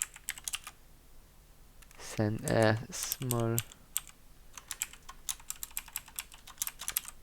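Keys clatter on a computer keyboard in quick irregular bursts, pausing while a person speaks briefly in the middle, then resuming as scattered taps.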